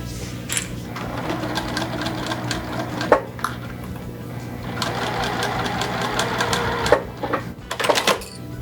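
A sewing machine stitches quilt pieces together, a row of half square triangles joined to an 8.5-inch square, running in a steady mechanical chatter with brief pauses and small clicks, close and moderately loud.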